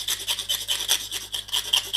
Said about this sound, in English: Just scrape it with a knife or use sanding paper or whatever you have lying around.